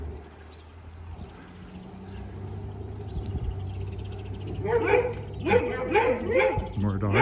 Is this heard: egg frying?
no